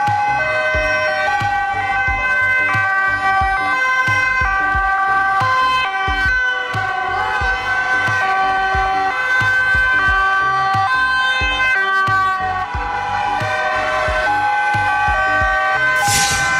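An ambulance siren wails loudly and continuously, its rising and falling tones steady and close throughout.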